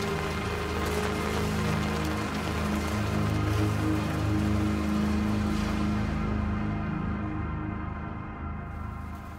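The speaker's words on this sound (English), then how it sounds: "Is it raining?" Steady rain falls indoors in the survival horror game Daymare 1994, a dense, even hiss of drops that holds throughout and thins out slightly toward the end.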